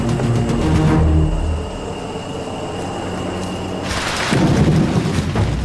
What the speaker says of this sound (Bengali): যখন তখন বৃষ্টি নামছে আর জঙ্গলের মাটি পুরো কাদা কাদা হয়ে গেছে। আর এই বাজ পড়ায় অবস্থা আরও খারাপ।